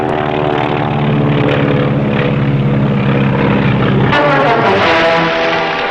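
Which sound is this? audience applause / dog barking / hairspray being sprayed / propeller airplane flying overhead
propeller airplane flying overhead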